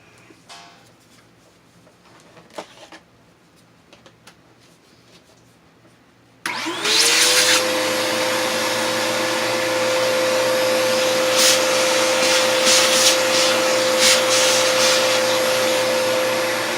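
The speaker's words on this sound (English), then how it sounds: "So now we'll get our vacuum cleaner." After a few seconds of quiet handling clicks, a vacuum cleaner switches on and runs loudly and steadily with a rising whine.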